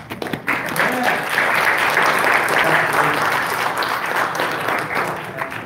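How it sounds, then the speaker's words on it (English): Audience applause at a South Bay community meeting, recognizing a drop in crime: sustained, fairly loud clapping that swells after a brief start and holds steady, with faint voices mixed underneath. "that definitely deserves a round of applause"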